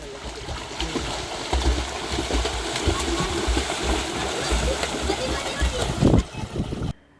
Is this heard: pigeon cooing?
no